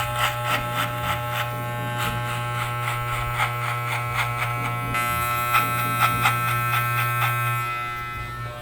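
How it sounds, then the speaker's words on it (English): Walmart hair clippers buzz continuously and loudly during a haircut, a steady close electric drone with slight wavering as the blades move through hair. "Yeah, you started with some Walmart clippers."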